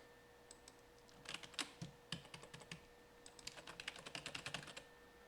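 USB computer keyboard typed on in short bursts of close, crisp key clicks, a quick flurry early and a longer steady run of taps later, with no talking.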